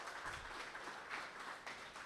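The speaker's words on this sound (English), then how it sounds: "Give her a round of applause." A small meeting audience at the Spokane Homeless Coalition claps, faint and steady for a couple of seconds, with no talk over it.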